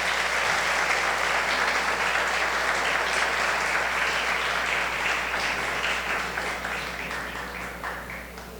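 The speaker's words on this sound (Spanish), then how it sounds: "Un aplauso para Gisela." Crowd at an anniversary celebration breaks into sustained applause, a dense, loud wash of clapping that holds steady and then gradually fades over several seconds.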